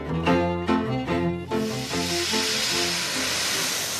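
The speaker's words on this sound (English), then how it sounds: "the steam roared off at all exhausts" Steam roars and hisses loudly and steadily from the Titanic's safety valves and exhausts. Deep musical tones play alongside at first, then the broad rushing steam takes over.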